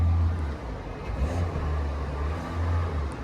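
A 2022 Kia Soul engine revs in pulses, capped around 2,500 RPM, producing a low, close droning hum that rises and falls several times.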